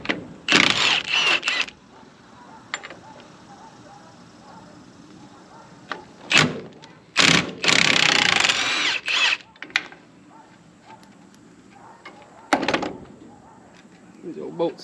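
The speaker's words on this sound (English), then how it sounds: "Got my Milwaukee 1/2 inch impact." Milwaukee 1/2 inch impact wrench hammering at a rusty 3/4 inch bolt on a John Deere 643 corn head, several short loud bursts separated by pauses, with metallic handling clanks and someone talking between them.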